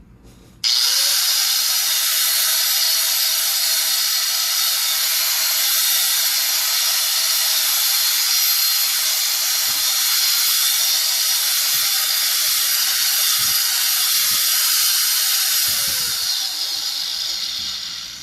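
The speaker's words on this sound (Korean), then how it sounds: "그라인더 켜볼게요." An angle grinder switches on and runs at high speed with a loud, steady, piercing whine that holds for about fifteen seconds and then winds down, with a few faint knocks and no speech.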